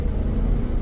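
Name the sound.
car engine at full throttle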